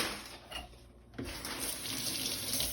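Tap water runs steadily into a sink while cut pineapple is rinsed under it, a close, continuous splashing that thickens after a brief dip.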